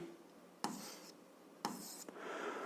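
Two quick bursts of pen or chalk strokes on a surface while an algebra equation is written out by hand, each scratchy stroke lasting about half a second, close and fairly quiet against a low room hum.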